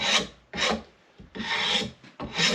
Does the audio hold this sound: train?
no